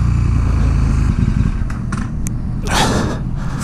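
A motorcycle ridden off a slick race track after a session, heard as a loud, steady low engine drone close by with a brief rising rush of wind or exhaust near the end.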